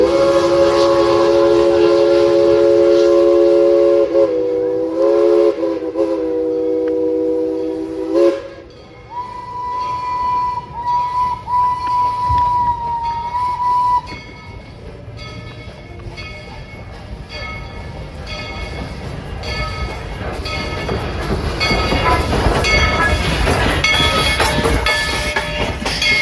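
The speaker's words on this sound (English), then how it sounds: "Please remain seated until the train has come to a safe and complete stop." A train at Tweetsie Railroad during a Day Out With Thomas event sounds a long, loud, multi-tone whistle, then a higher single tone, and rolls on with steady, building rumble and clatter along the track.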